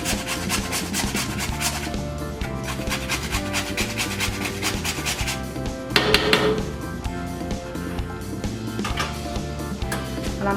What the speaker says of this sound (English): I like to grate my own nutmeg.